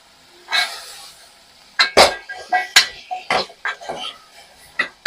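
Eggplant, potato, fresh lablab beans and drumstick pods being mixed into spice masala in a pan, a series of close, sharp metallic scrapes and clinks of a spoon against the pan with soft hiss between strokes.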